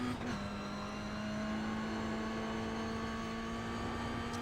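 Toyota GR86 engine held at full throttle in iRacing on the Summit Point circuit, a steady loud drone with a constant tone through a corner, no talk over it.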